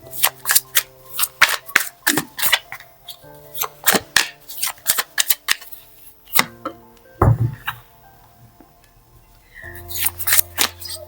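Tarot cards are shuffled and riffled in quick, crisp bursts of flicking and slapping, close and loud, with short pauses between rounds and no talk.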